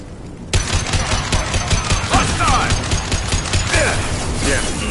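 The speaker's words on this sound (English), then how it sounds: "Blue Suns and Vorcha shooting anything that moves." Blue Suns mercenaries and Vorcha trading fire in Mass Effect, a steady stream of overlapping shots and impacts filling the scene while voices speak over the din.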